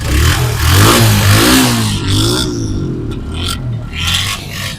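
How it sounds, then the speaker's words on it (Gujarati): A motorcycle engine, a Yamaha MT-15 or Suzuki Gixxer, revs loudly up and down, rising and falling in pitch with rattly clatter, close by and with no talking. "આનો એન્જિનનો અવાજ સંભળાવી દઉં તો મિત્રો તમે"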